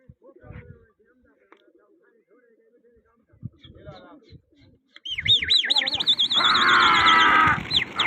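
Pigeons at a pigeon flying contest: scattered voices and handling noises give way to a dense, loud burst of repeated chirping and warbling calls in the last few seconds over a steady hum. People talk nearby.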